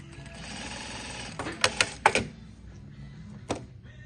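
A Durkopp Adler industrial sewing machine runs with a steady low mechanical hum, broken by a few quick sharp clacks of the needle stitching, with no talk.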